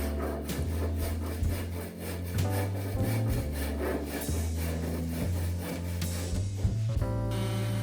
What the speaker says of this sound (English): we ended up cutting it into smaller pieces and finalizing the cuts with a handsaw